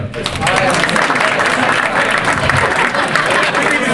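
Comedy club crowd at Rob's Comedy Playhouse clapping and cheering, a continuous wash of applause with chatter and voices mixed through it.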